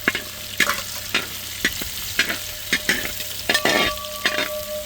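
Garlic and ginger fry in hot oil for mushroom masala, a bright sizzle broken by repeated scrapes and clatters of a spoon stirring the pan.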